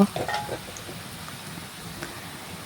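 Spice paste tipped into browned fried onions in a pan for chicken curry, giving a soft, close sizzle after a brief clatter at the start, with faint voice-like traces underneath.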